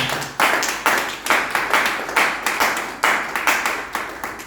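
A church congregation claps together in a steady, even rhythm, about two claps per second, loud and close, with no voices over it.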